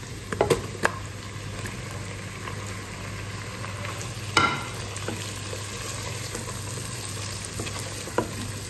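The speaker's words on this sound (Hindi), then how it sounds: "लहसुन अदरक भूनने के बाद अब इसमें मैं टमाटर शामिल कर रही हूँ।" Tomatoes fry in oil with ginger garlic paste for Hyderabadi mutton biryani, a steady close sizzle broken by a few sharp spoon or pan knocks near the start, middle and end, with no one speaking.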